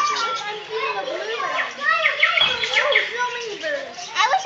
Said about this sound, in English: No, so many birds.